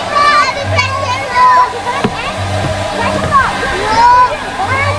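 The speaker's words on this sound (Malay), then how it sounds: "Ada apa ni, air terjun." Water pours steadily at a waterfall in the Dino's Gate theme park in Batam, Indonesia, a constant splashing rush. Adults and children talk over it and birds chirp.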